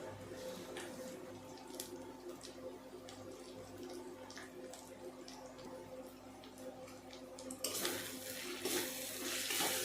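Water added to a pan of turmeric, chilli and coriander powder being fried for mutton curry: quiet stirring and sizzle, then a louder hissing surge of water hitting hot spices near the end, close by, no voices.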